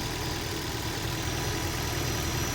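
A car engine idles steadily with its electric AC compressor running, a constant close, loud hum and drone with no voices.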